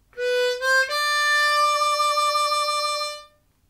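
Blues harmonica lick from a 12-bar blues, a few short bent notes followed by one long sustained draw note with a gentle hand wah wobble, clear and close with no talking.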